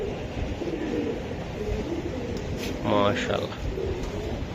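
Racing pigeons coo in a loft, soft low throaty calls with one clear coo near the end, heard under a man's speech.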